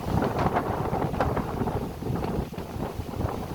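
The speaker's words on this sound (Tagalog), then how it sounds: "Narinig nyo naman yung hangin na malakas ang hangin." Strong wind in Coron, Palawan buffets the microphone in a continuous low roar, gusting slightly but never letting up, with no voices.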